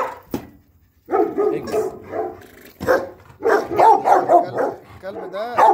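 A golden male guard-training dog barks in repeated rough bursts and yips, fairly close, while people talk over and between the barks.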